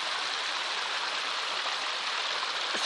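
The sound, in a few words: small stream fed by a black pipe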